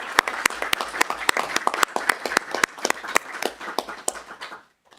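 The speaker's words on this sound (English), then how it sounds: "Could I please ask you to put your hands together for a round of applause for Natalie Adams." A modest round of applause at a council meeting, scattered individual claps from a small group of people heard sharply and unevenly before dying out.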